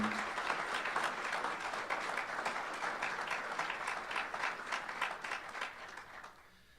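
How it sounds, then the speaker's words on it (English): An audience at the 2014 Georgetown College athletic hall of fame induction ceremony gives dense, sustained applause for the student athlete inductees, steady and then tapering off toward the end. "Let's give one more round of applause to all of the inductees in this student athlete category."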